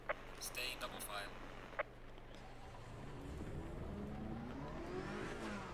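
Racing engines in Assetto Corsa Competizione at a race start, with a BMW among the field, rising in pitch from a low drone into layered accelerating revs that swell in the second half, under a few brief clicks and speech.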